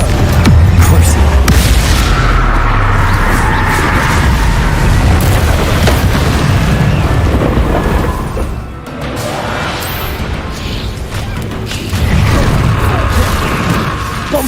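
Loud, dense spell explosions from Bombarda casts in Hogwarts Legacy, booming and crashing almost continuously, with heavy rumble and a brief dip before the blasts resume.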